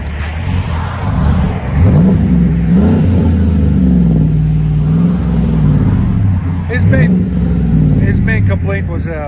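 A 2016 Chevy Silverado Z71 with true dual Magnaflow exhaust and an 11-inch muffler rumbles loudly, the deep exhaust note rising and falling through several revs while people talk over it.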